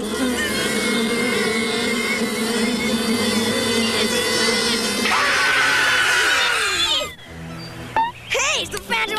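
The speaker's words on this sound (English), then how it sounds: "The bees were buzzing happily." Cartoon bees buzz in a steady drone under busy cartoon sound effects and music, then the buzzing cuts off abruptly into clattering noises.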